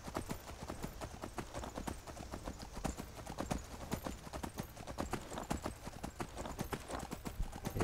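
Brisk, rhythmic clip-clop of horse hooves in a video game at a steady trot, fairly close and continuous throughout, with no talking.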